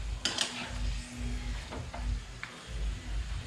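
A utensil scrapes and clanks against a pan while marinated native chicken adobo is stirred, giving several short metallic knocks and scrapes over a low sizzle, with no talking.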